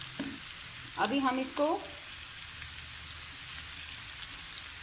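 Potato balls for aloo manchurian fry in hot oil, giving a soft, steady sizzle and faint crackle throughout, with someone speaking briefly near the start.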